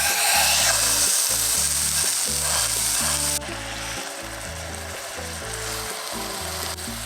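Hamburg steak patties for Hawaiian loco moco fry in a little cooking oil, giving a steady, loud sizzle with no talk, overlaid by a low rhythmic hum or music bed.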